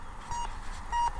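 A metal detector sweeping over a buried object gives two short, clear electronic beeps about half a second apart, set against quiet outdoor background noise.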